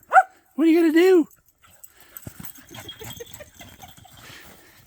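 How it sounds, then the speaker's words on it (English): A young Red Heeler dog and another dog yip and whimper in two short bursts, then scuffling and faint voices follow outdoors near a hill. "Crazy dogs."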